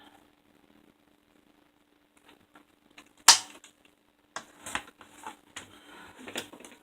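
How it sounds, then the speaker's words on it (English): A paper trimmer slicing through card: near-silence, then a single sharp snap followed by a run of light scraping, clicking blade strokes, close and fairly quiet. "Use my trimmer."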